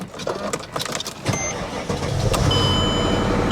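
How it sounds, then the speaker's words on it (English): A 1962 Mercedes 190 engine cranks and catches after some clicks and handling noises, then settles into a steady, loud, close idle that runs to the end. "Now, I want to show you that this car runs."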